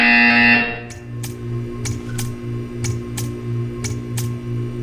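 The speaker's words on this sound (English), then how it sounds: "You will hear a buzzer." A buzzer sounds in a Portal 2 test chamber: an initial tone cuts off, then a rapid series of about seven short sharp pulses repeats over a steady electronic hum.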